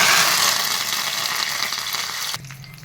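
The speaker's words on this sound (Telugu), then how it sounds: "కరివేపాకు వేసుకుందామండి" Curry leaves hit hot oil for a tempering over moong dal, just after the stove is switched off, giving a loud, dense sizzle that stays steady before dropping off sharply near the end.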